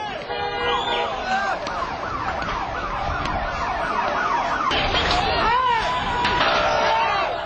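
An ambulance siren wails in a Gaza street, its rising and falling sweeps sounding moderately close over traffic rumble and crowd noise, with people talking throughout.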